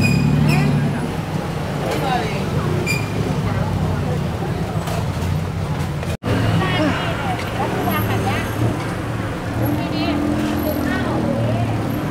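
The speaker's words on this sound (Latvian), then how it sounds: "tur brauc mašīnas" Traffic rumbles along a busy Bangkok street, a constant loud wash of engines and passing cars under crowd hubbub and nearby voices talking.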